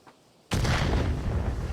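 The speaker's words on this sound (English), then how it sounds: "Shooting into the red brick building. Shooting at Silly Willy, and they trade." Gunfire in the VR shooter ContractorsVR around a red brick building, erupting suddenly after a quiet moment into loud, dense bursts of shots and booming blasts that continue steadily to the end.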